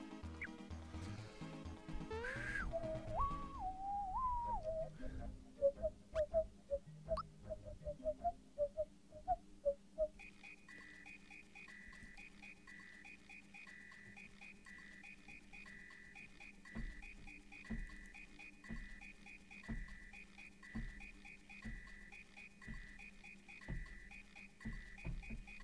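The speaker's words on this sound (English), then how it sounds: "Play notes by jumping on the tadpoles. Let's hear your melody." In Super Mario RPG, jumping on tadpoles plays a melody of short, chirpy musical notes. Brief tones arrive in a quick run, then a steady looping game tune continues for the rest of the stretch without talk.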